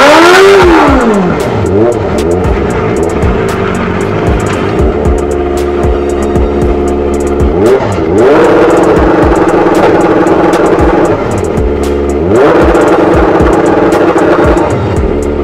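A Kawasaki ZX-25RR motorcycle fitted with new wheels does repeated launch-control starts: a loud, near engine climbs steeply through three hard acceleration runs, each rising to a high-pitched scream, with no talking.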